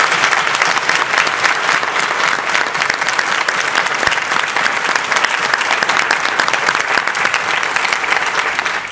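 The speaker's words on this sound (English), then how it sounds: "So let's all give a big round of applause for Mr." Loud, dense applause from a Toastmasters district conference audience greeting a speaker at Friday night opening remarks, sustained and even throughout with no talk over it.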